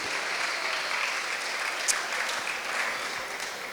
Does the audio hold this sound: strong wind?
no